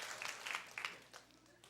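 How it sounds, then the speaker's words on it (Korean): A seminar audience gives a short round of clapping for a sixth-grade student, a few scattered claps heard faintly and at a distance before fading out. "박수 한번 쳐주세요"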